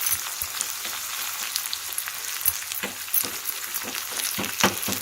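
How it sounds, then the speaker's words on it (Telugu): Curry leaves fry in hot oil for a tempering, a quiet continuous sizzle with scattered crackles and light stirring taps, heard up close with no voices. "చూడండి, కరివేపాకు కూడా వేగిపోయింది కదా."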